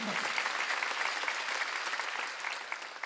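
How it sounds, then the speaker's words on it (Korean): A church congregation at a Wednesday worship service applauds, a quiet, steady wash of many hands clapping at some distance that thins slightly toward the end. "박수야"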